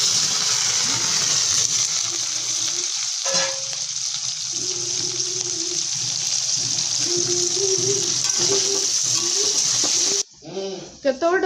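Masala spices and onion frying in oil in a cooking pot, a steady loud sizzle throughout with stirring scrapes and a voice talking over it, cutting off abruptly near the end.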